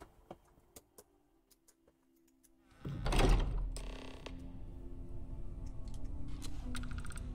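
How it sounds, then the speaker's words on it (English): A door being unlocked in the video game Starfield: a few light clicks, then a loud mechanical clunk and a sustained whirring rumble as the heavy door releases and slides, with a steady hum trailing on afterward. "Let's get that door unlocked"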